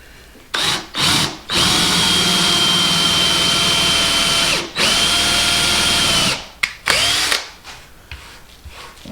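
A power drill with a 3/8-inch bit whines loudly in long sustained bursts with brief pauses, boring steadily into wood slices to 1.5 inches deep, then trailing off into short stuttering spurts.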